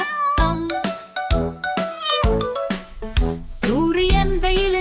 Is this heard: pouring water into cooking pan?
no